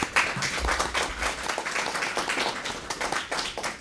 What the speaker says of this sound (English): ask you just to round of applause for everybody involved